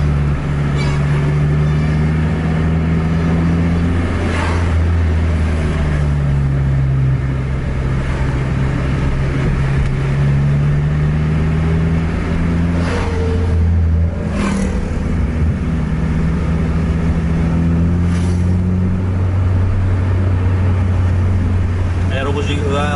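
A Volvo bus drives loudly through heavy traffic full of trucks, its engine droning and shifting pitch as it pushes to overtake. A voice talks throughout over the constant road noise.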